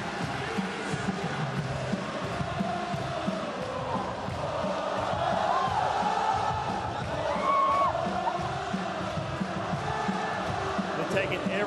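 Crowd at a 2023 World Baseball Classic game between Chinese Taipei and Italy, a dense continuous roar of cheering and chanting that swells slightly midway and stays loud and distant throughout.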